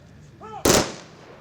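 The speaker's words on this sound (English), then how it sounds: "followed by gunshots in honor of the fallen heroes" A single loud ceremonial gunshot cracks out at an Armed Forces Remembrance Day ceremony honoring fallen soldiers at Eagles Square, Abuja, a sharp burst that decays into a short echo after a brief tonal sound.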